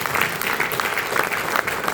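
An audience at a speech claps steadily, a dense crowd of hands close by and fairly loud for two seconds, with no talking over it.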